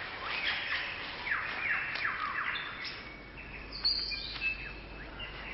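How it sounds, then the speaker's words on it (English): Superb lyrebird of Southern Australia singing, a rich run of varied whistles, rapid trills and sweeping chirps, clear and fairly near against a quiet outdoor background, with no talk. "The superb lyrebird of Southern Australia."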